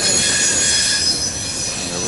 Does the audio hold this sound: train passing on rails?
yes